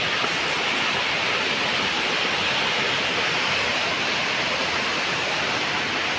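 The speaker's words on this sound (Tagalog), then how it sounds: "Ito yung kakambal niya na falls." Malinaw Falls in Valencia roars as a steady, dense rush of falling water, loud and unbroken throughout, with no voices over it.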